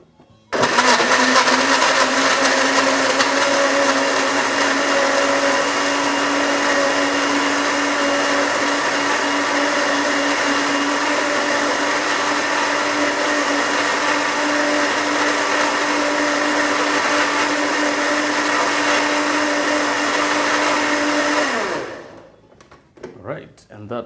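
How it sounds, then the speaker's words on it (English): A blender whirs loudly and steadily for about twenty seconds while blending a smoothie of peeled carrot, tomato and radish, then spins down and stops. "And then back to the blender."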